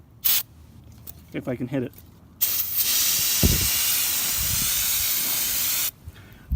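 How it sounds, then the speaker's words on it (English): Non-chlorinated brake cleaner sprayed from an aerosol can onto a Dana 44 axle of a 1965 Jeep CJ5 under restoration, a loud continuous hiss running several seconds, close up, with brief talk before and a quick word after. "I just got some brake clean, the non-chlorinated stuff, and I'm just going to spray this all down"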